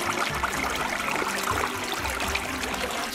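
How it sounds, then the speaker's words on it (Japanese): Water trickling and flowing inside a cool limestone-type cave, a steady continuous babble of a small stream echoing close by with no voices. "聞こえます、この水が流れる音。"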